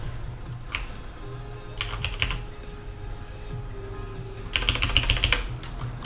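Keystrokes on a computer keyboard while code is typed, in quick bursts of clicky taps separated by pauses, with a denser, louder flurry near the end over a low steady room hum.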